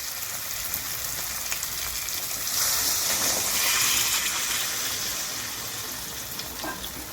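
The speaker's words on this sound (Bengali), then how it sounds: "এবার আমি এর মধ্যে গরম জল দেব।" Hot water poured into a pan of Bengali aar fish curry after the spiced oil has separated gives a loud, steady sizzle and hiss that swells briefly in the middle, then settles.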